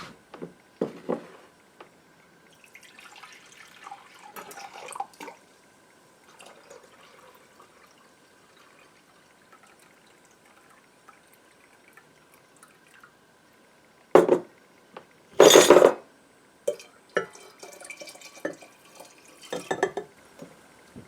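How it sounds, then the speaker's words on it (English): Hands are rinsed under a running tap while brewing kombucha, heard as two short, close bursts of gushing water among scattered drips and light clinks, set in a mostly quiet room without speech. "Rinse my hands off."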